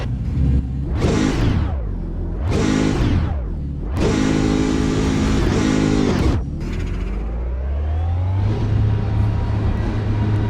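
A loud racing car engine in the video game Automobilista 2 revs and drops repeatedly in steady surges, then settles into a sustained high drone, continuous and close with no talking.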